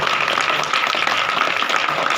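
A Hindi poetry gathering (kavi sammelan) audience in Indore claps loudly, a dense, continuous patter of many hands close by.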